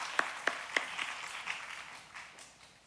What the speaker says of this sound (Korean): 우리 다시 한번 큰 박수 부탁드리겠습니다.